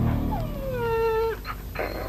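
A dog whimpers in a Kannada comedy film scene: one drawn-out, falling whine, followed by a couple of short, softer yelps. It is fairly close and clear, with no talking.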